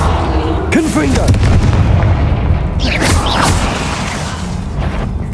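A Confringo fire spell blast in Hogwarts Legacy bursts with a heavy, booming impact followed by crackling rumble, loud and close, with game effects layered over a sustained low roar.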